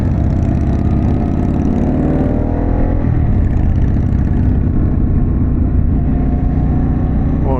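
Harley-Davidson Pan America motorcycle with a Vance Hines exhaust, its engine running loud and close with a deep, steady rumble, briefly revving near the start before settling into a continuous throaty drone.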